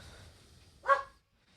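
A single short bark from a dog rises briefly above a low background hum, close and moderately loud, with no talking.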